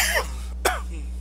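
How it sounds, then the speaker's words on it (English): A man gives a single short, sharp cough after a brief throat-clearing rasp, close and fairly loud indoors, followed by quiet. "chronic coughing and stuff"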